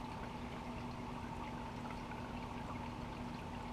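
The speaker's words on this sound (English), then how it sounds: "Going to give this a good dose of water to soak it." A continuous pour of water onto seed starting mix and potting soil, steady gentle splashing without pause, accompanied by a faint mechanical hum.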